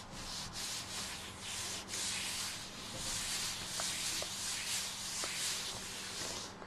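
A hand rolls slowly across glued book pages being altered, giving a soft, steady rubbing and sanding-like hiss that continues close and even throughout with no talking.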